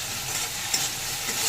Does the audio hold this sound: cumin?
yes